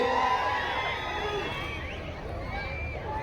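A large rally crowd at a speech by the Telangana Chief Minister shouts and whistles, with rising and falling whistles over a dense roar of voices.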